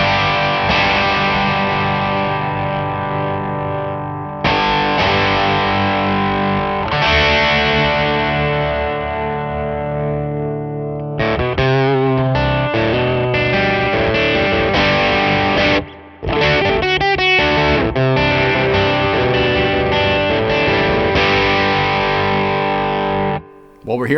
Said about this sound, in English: we went a little bit higher to get that vocal, cocked wah sound